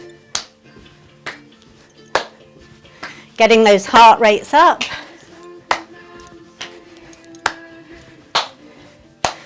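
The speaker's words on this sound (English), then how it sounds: "as we flick kick, we're going to clap above the head" Single hand claps ring out at a steady pace, made above the head and behind the back during a Dru Yoga class, with an instructor talking over the middle of the sequence.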